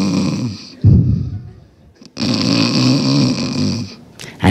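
Loud, close snoring from a person in deep sleep lying on their stomach, with two long rasping breaths separated by a short pause.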